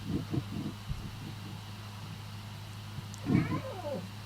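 A cat meows a few times in a game, two or three short calls at the start and a louder, longer meow near the end over a low steady hum.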